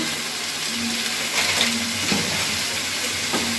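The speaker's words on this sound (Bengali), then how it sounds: "এবার আমি খুব ভালো করে এটাকে কষিয়ে নিচ্ছি" Potol, kochu and prawn fry in a pan with turmeric, cumin, chilli and pepper powders, giving a steady close sizzle and hiss with faint stirring scrapes throughout.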